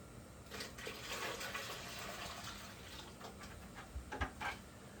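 Water pouring from a 5-gallon bucket into a can to top off a 10-gallon aquarium, a steady close splashing and trickling with a few louder gurgles near the end, no talk.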